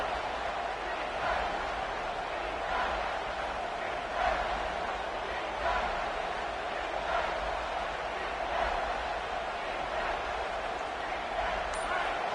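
Football stadium crowd at a Michigan vs Arizona State game swelling into a steady, dense roar that holds loud and continuous throughout, with faint surges rising out of the wash of noise.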